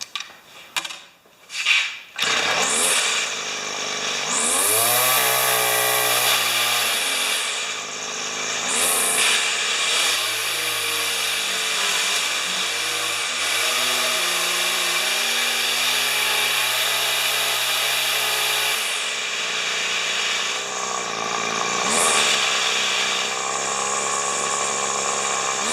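Weed wacker two-stroke engine on partial choke, sputtering to life after a brief pull and then revving up and down unevenly, surging and dropping between loud bursts, close by.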